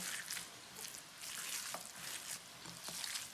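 Raw kheema mince for Hyderabadi kheema fry being mixed by hand, giving a soft, wet, squelching hiss in steady irregular bursts, close and fairly quiet, with no talking.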